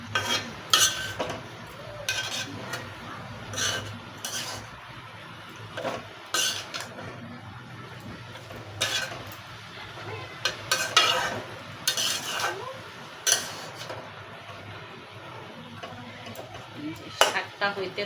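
A spoon or spatula stirs leafy greens (shak) in a metal cooking pan, making irregular clinks and scrapes over a soft, steady sizzle. A voice speaks briefly in between the strokes.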